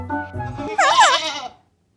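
A cartoon sheep-bleat sound effect in an Animal Crossing animated comedy: a short, bright, wavering bleat of under a second. It follows a brief low voiced tone and fades out quickly into silence.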